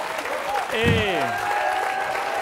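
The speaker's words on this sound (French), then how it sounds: "le public vous applaudit" Studio audience applause on the French game show Qui veut gagner des millions, a steady wash of clapping running under a host's voice throughout.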